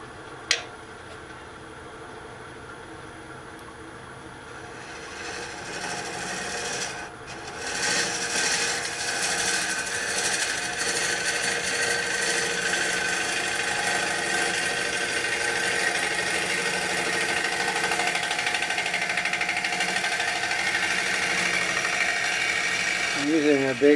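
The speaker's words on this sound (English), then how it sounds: "I'm using a big, heavy scraper right now to do the final cut on there" A big, heavy scraper cuts an end-grain aromatic cedar bowl spinning on a lathe, giving a steady, continuous rasping hiss that rises after a quieter start and holds evenly, with a few knocks.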